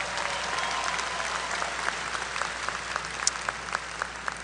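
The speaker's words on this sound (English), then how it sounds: "can we give Dr. Montgomery Rice another round of applause" Audience applause fills a graduation commencement ceremony: steady, moderately distant clapping from a large crowd, continuous for several seconds without talk.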